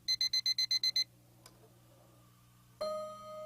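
A built-in alarm tone plays in an iPad alarm app: a quick run of seven evenly spaced electronic beeps, a short tap, then a single sustained chime that rings out.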